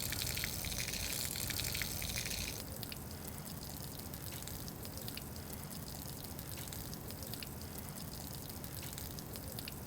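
A steady hiss of water from a car-wash hose, loud at first and then settling into a softer, lighter stream at about a quarter flow with occasional drips.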